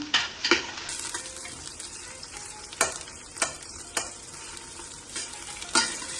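Onions fry in oil in a pan for a mutton curry, giving a steady broadband sizzle broken by sharp scraping stir strokes at irregular intervals, close and fairly quiet, with no talk.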